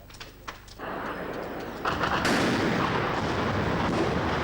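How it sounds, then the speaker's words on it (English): Airstrikes and artillery fire over Grozny: a few sharp distant reports at first, then a heavy continuous rumble of blasts and gunfire building and holding loud to the end, with no voices. "Airstrikes continue."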